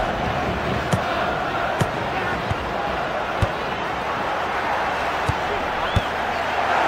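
A steady, dense roar fills the stadium in the FIFA Football 2004 video game, with sharp thuds of the ball being struck at irregular intervals over the top.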